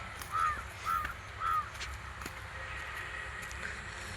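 Three harsh crow caws ring out in quick succession over a steady outdoor background hum, followed by quieter open-air ambience.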